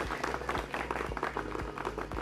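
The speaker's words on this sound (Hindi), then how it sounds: "जोरदार तालियों से स्वागत कीजिए हमारे विशेषज्ञों का।" An audience at a farmers' forum applauds to welcome agricultural experts, a moderate, steady patter of clapping hands heard over a low electrical hum with a few thumps.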